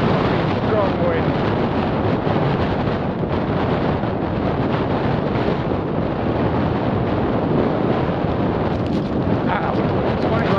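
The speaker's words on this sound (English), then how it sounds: "Strong wind." Strong headwind buffets the microphone during an electric bike ride, a constant loud rumbling roar with no break throughout.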